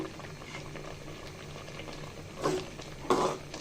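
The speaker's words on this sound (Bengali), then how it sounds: "একটা দুইটা বলক আসছে এখন আমি লাউটা নামিয়ে নিব" Bottle gourd boils in a pot of water, with a low bubbling simmer and a couple of brief louder bursts as the boil rises, close and without talk.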